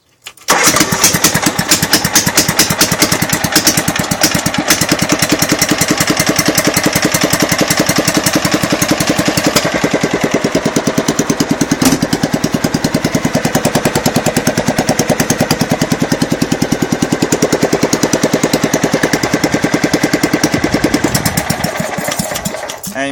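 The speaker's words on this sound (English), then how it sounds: "that was a cold start, and as you can hear, there's still no exhaust" A Kubota racing tractor engine cold-starts with no exhaust fitted, firing immediately into a loud, raw, rapid hammering idle that runs continuously and close up for over twenty seconds before cutting off, with no talking.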